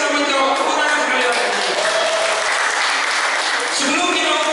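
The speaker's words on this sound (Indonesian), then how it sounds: "Tepuk tangan sekalian." Sustained, loud audience applause fills a Bible knowledge quiz competition, with dense clapping throughout and some voices mixed in.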